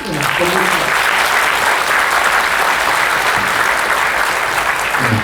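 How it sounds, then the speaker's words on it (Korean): An audience at a meditation lecture claps in a loud, dense, steady round of applause that fills the whole stretch, with a few faint voices at the edges. "큰 박수로"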